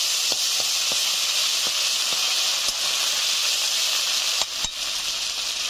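Ginger paste hits a hot pan while cooking a village-style rohu fish curry, giving a steady, loud hiss of sizzling oil throughout with a few light clicks of a utensil scattered on top.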